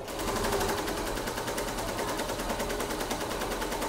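A computer embroidery machine stitches a rakhi flower design in a rapid, even, mechanical rattle, close and loud and running continuously without voices.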